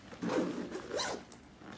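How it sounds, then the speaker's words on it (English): Zippers on a Nomatic backpack are pulled in two quick rasping strokes, close and clear, with a short pause between them and no talking. "You hear those zippers."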